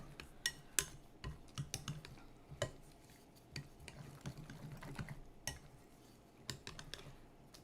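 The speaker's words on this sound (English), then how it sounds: "give that a good stir" A dough whisk stirs bread dough with chopped jalapenos in a bowl. Quiet, uneven clicks and scrapes against the bowl keep on without talk.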